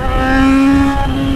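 An XJ motorcycle accelerates outside a college exit in Londrina, its engine droning steadily and loudly close by with a rising tonal whine throughout.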